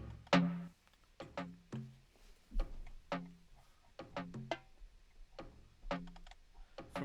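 Ableton's stock hand drums kit plays dry, without effects, as a pattern of short percussive hits with quick decays, some with a low resonant tone, in an irregular groove.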